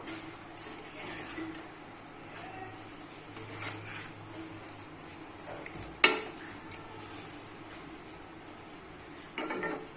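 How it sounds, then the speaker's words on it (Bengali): Small fish being stirred in a pan for a thick, saucy curry: soft scraping and utensil clinks against cookware, with one sharp metallic knock midway and faint sizzling underneath. "মাছগুলো দিয়ে ভালো করে নাড়াচাড়া করব।"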